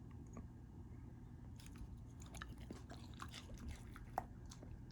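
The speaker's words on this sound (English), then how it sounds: "That's a pretty good chew." A pet chews a piece of watermelon with soft, wet crunching and smacking bites, close but quiet, in irregular bursts over low background hum.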